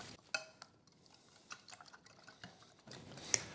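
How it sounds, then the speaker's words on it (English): Raw eggs beaten in a bowl with a spiral whisk during home meal prep: quiet, wet sloshing broken by light irregular clicks and taps of wire against the bowl, with a sharper knock near the end. "Here's my favorite tool for beating eggs. It's called a spiral whisk."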